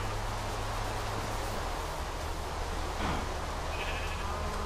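Sheep bleat in the Minecraft video game, a couple of short, thin bleats set against a steady background of game ambience, with no talking.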